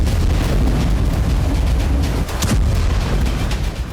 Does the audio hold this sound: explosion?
yes